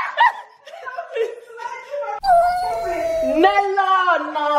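A puppy howls in a home in a series of rising and falling wavering cries, loud and close, broken by a short pause midway before a longer sustained howl.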